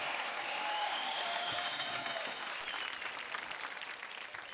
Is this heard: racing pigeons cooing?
no